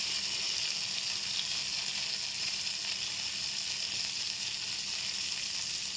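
Steady, continuous sizzling and crackling of marinated fish frying in hot oil, even and close throughout, with no voices.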